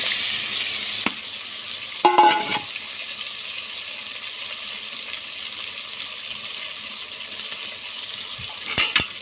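Pieces of raw mango cooked with ginger, plus kanthari chilies, frying in hot oil for a Kerala mango pickle: a soft, steady sizzle punctuated by a few sharp clinks and clatters.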